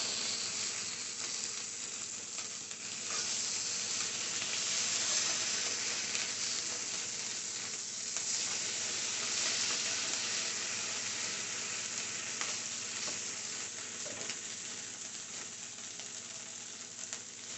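Turkey bacon frying in a pan, a continuous loud bright sizzle with crackling hiss that holds steady throughout, no talking.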